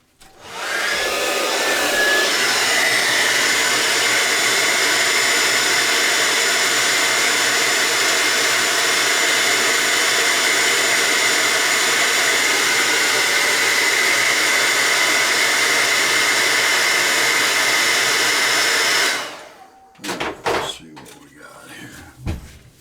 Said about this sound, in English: grab a blow dryer.